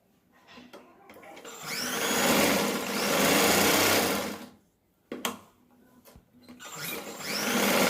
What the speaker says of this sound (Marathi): शिलाई डबल मारून घ्यायची।